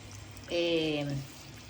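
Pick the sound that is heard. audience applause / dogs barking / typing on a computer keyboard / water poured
water poured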